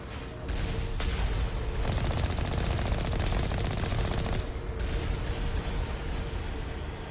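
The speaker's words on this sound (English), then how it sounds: "They're gun turrets." Automatic gun turrets fire in the Mass Effect 1 video game, sustained rapid bursts of loud gunfire with booming impacts running almost continuously, with no talk over them.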